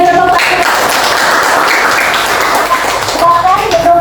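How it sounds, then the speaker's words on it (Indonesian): Classroom students applauding after a group presentation, a dense steady burst of clapping running through most of the moment, with a voice speaking over its start and end. "kita beri tepuk tangan"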